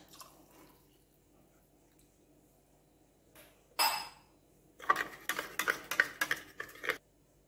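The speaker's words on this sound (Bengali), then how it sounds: "ডিমটার সঙ্গে ভালো করে গুলে নিচ্ছি।" Eggs are beaten with milk in a bowl, first a brief clatter, then a quick run of rapid, close whisking strokes lasting a couple of seconds before stopping, with no speech.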